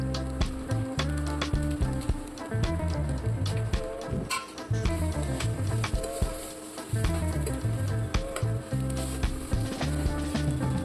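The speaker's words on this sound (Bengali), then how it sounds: "নুডলসটা ভালো করে নাড়াচাড়া করে রান্না করতে হবে।" Egg noodles frying in a pan, a steady close sizzle with rhythmic scraping and clatter from repeated stirring throughout.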